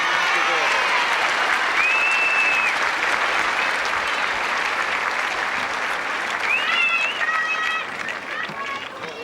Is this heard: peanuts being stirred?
no